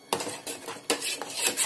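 A ladle scrapes through wheat flour halwa cooked with ghee in a pot, giving a few close, separate scraping strokes with short gaps between them.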